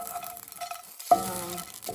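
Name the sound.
pumpkin seeds roasting in a cast iron pan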